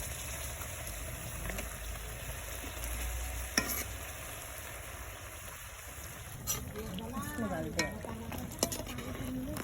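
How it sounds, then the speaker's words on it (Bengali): Spicy pitha cakes fry in oil with a faint, steady sizzle under light stirring and scraping sounds, with a few clinks and a voice talking in the background. "এক পাশ ভালোভাবে ভাজা হয়ে গেলে আমি পরে উল্টিয়ে দেবো।"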